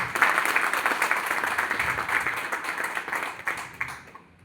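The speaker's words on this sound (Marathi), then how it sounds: "मी सगळ्यांना विनंती करतो की त्यांच्यासाठी भरभरून टाळ्या होऊ द्या." Audience at a CAE event in Jalna, India, applauding a guest, a dense sustained round of clapping that starts loud and gradually thins and fades away to near silence at the end.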